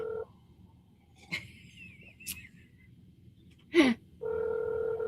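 A phone call rings out on a morning radio show, with a short ringback tone at the start and a longer steady ring near the end, separated by faint background noise and a brief rustle.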